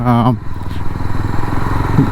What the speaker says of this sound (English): This bike was standing for almost 5 to 6 hours, so it's a proper cold start.